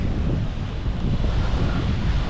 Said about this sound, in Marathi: आलेलो आहे बीचला.